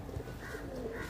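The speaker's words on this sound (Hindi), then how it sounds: "ये देखिए कैसा शानदार गोल्डन कबूतर है" Soft, low cooing from a pigeon, a couple of gentle throaty notes over a faint background hum.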